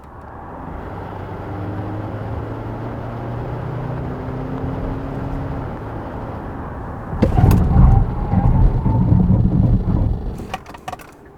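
An all-new Kia Sorento diesel is tested for braking: steady road and engine rumble builds, then a louder burst of tire and brake noise with rattling as the vehicle hauls to a stop, fading out afterward.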